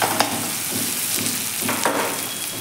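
Ginger-garlic paste sizzles steadily in a hot pan while being stirred, with a continuous frying hiss and a few soft scraping strokes, close and fairly loud with no talking.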